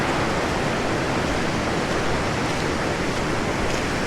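River water rushing steadily at a ford in the Monadhliath hills, a dense, unbroken roar that stays loud and close from start to finish with no voices.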